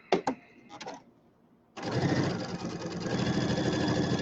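A home sewing machine stitches a settee pillow, running in a steady continuous whir after a few brief clicks and handling sounds and a short pause.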